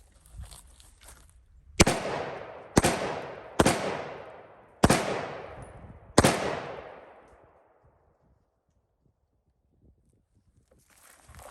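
Close-range 7.62 AK rifle shots striking a level 3/4 steel armor plate: five sharp, loud cracks at uneven intervals, each ringing into a decaying metallic tail, then quiet.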